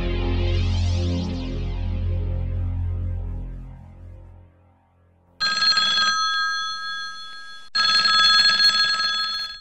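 An old-style telephone bell rings in two loud, bright bursts after a low, fading musical drone, with a short gap between the rings.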